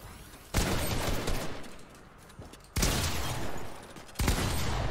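Bursts of rapid gunfire from the shooter game Fortnite crack out in three loud, dense volleys separated by brief lulls, layered over continuous game noise.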